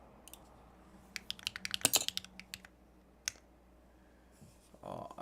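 Typing on a mechanical computer keyboard, with a fast, irregular burst of crisp key clicks and clacks close to the mic, then a few scattered single strokes and a soft thud at the end, with no voices.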